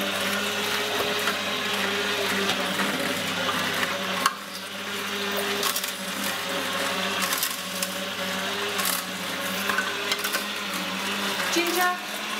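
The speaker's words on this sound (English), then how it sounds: "Let's get juicing. Beetroot. Pulp slowly coming out." A Juicepresso slow juicer presses beetroot with a steady, close mechanical whir and hum, broken by occasional crunches and clicks as pulp is pushed out.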